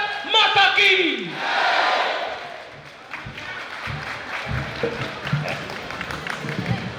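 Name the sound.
audience chanting Bharat Mata ki Jai slogan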